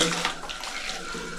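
Fresh water pours steadily at a household tap or into a vessel, a continuous soft splashing rush, fairly faint and without talk.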